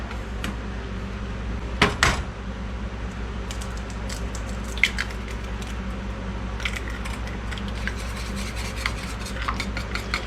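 An egg is whisked into a simmering vegetable soup to thicken it, giving steady wet stirring and scraping in a pot with a few sharp utensil clinks, close and continuous with no talking.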